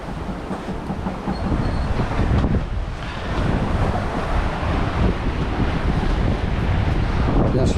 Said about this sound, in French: Bon, c'est un vent à 90 degrés pour nous par rapport à notre cap. Et non, c'est super. Bon, il y a de la houle